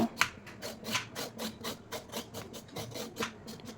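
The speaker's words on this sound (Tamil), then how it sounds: "சீவி நல்லா அந்த மேலே இருக்கிற தோலெல்லாம் எடுத்துடுங்க" A peeler scrapes the skin off a snake gourd in a kitchen in rapid, rhythmic strokes, each a short rasping swipe, close and fairly quiet, with no talk.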